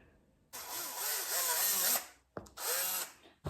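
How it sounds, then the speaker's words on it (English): A power drill pre-drills shallow holes into a floor while a shoe rack is installed, giving two close, loud whirring bursts with a short pause between them. "let me just pre-drill"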